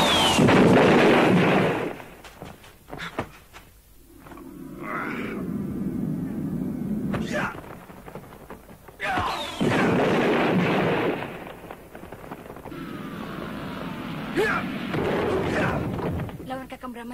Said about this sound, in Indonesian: Bunyi ledakan ajian cadas ngampar tadi terdengar sampai ke pinggiran bukit.